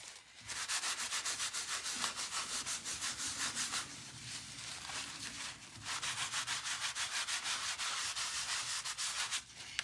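A baby wipe rubs color off an embossed Thanksgiving card with steady, rhythmic back-and-forth scrubbing strokes, close and continuous, pausing briefly twice before resuming.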